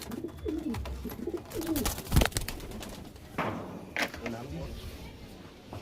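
A pigeon coos in low, rolling bursts, close by, with a sharp knock in the middle and someone talking intermittently.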